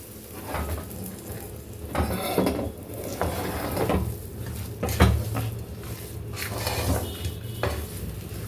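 A spoon stirs fried tempering into ven pongal in a pot, with repeated scraping and clinking strokes over a faint sizzle, moderately loud and close, with no voices.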